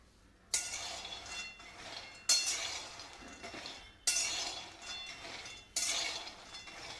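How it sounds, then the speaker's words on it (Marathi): One kilogram of peanuts roasts in a pan over a low flame as they are stirred, four evenly spaced bursts of dry rattling and clinking that fade between strokes, fairly quiet, with no talking. "इथे मी 1 किलो शेंगदाणे घेतलेले आहेत, ते असे चांगले मंद आचेवर भाजून घेणार आहोत"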